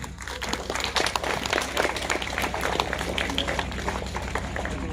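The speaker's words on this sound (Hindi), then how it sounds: "आप लोगों से दरख्वास्त करूँगा कि उनके लिए ज़रूर ताली बजाएं" An audience claps steadily and densely throughout at a school Republic Day celebration, a sustained round of applause that fills the room.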